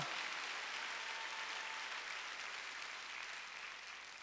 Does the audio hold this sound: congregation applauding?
yes